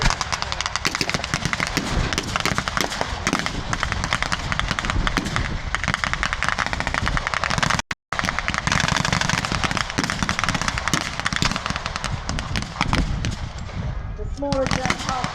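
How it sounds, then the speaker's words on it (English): Rapid gunfire from a German half track at a WW2 re-enactment, a dense, continuous crackle of loud shots with bursts and distant booms, briefly cut off around the midpoint and resuming; voices are faint underneath. "The smaller German half track was firing at the Allied artillery."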